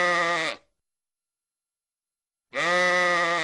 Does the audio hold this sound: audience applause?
no